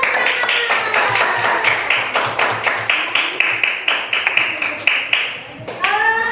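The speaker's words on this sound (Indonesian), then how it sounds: "Tepuk tangan." Students clap together in a classroom, a burst of quick, close handclaps that carries on for several seconds and fades out near the end.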